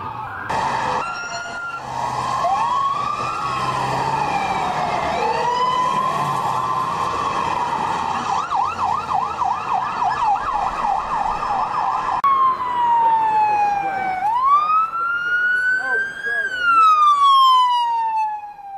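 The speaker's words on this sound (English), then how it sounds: "Sirens were wailing." Emergency vehicle sirens wail in the street during the 9/11 emergency response in New York, loud and close, rising and falling in long sweeps and fast yelps, with a second siren taking over partway through.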